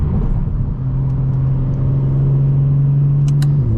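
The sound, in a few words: BMW M4 Competition exhaust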